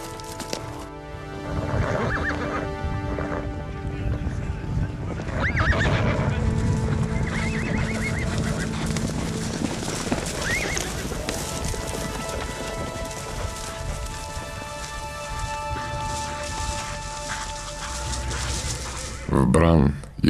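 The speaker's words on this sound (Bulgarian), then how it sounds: "заглуши я грохота на препускащи коне" Horses gallop with pounding, clattering hooves and repeated neighing and whinnying, a busy mix of hoofbeats and calls that rises and falls throughout, with a spoken voice narrating over the herd.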